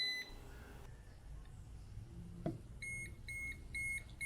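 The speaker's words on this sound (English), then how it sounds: "a little circuit tester like this comes in very handy. It will detect if a circuit is on or off" A small circuit tester beeps in short, evenly spaced high-pitched bursts after a brief single tone, faint and alone.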